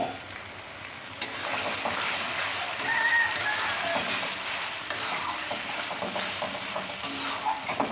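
Grated ginger and garlic hitting hot oil with browned onions in a pan, giving a steady, close sizzle with frying crackle and occasional stirring scrapes throughout, no voices.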